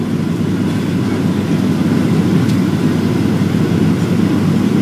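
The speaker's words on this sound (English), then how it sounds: "landing at LAX with no flaps" Boeing 737-700 making a fast no-flap emergency landing at LAX, its engines giving a steady, loud, broadband low roar with no speech over it.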